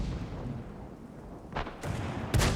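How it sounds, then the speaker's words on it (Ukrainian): KV-2 tank cannon firing in World of Tanks: a single heavy, sharp boom near the end, preceded by a couple of shorter blasts over a low rumbling battle background. "Ось був перший постріл."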